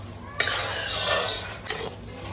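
Dry fruits roasting in a pan for Gujarati winter adadiya, with a steady soft stirring scrape, a couple of sharp clinks of a spoon on the pan, and a low hum underneath.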